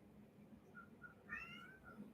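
A pet cat named Perseus gives one faint, rising meow in a quiet room, distant and soft over a low background hum, with no talk.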